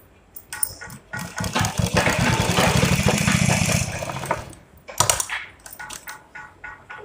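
A sewing machine runs a brief line of stitching while a pocket is sewn onto palazzo pants, its rapid, even mechanical chatter rising for about three seconds and then stopping, with handling clicks and a short second burst afterward.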